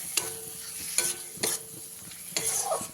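Chopped tomatoes are stirred into a hot frying pan while a potato and soybean curry cooks, with three or four bursts of scraping and sizzling over a low steady frying hiss.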